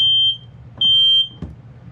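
Hardwired 120-volt smoke detector giving two loud, piercing electronic beeps about half a second each, separated by a short gap, followed by a faint click.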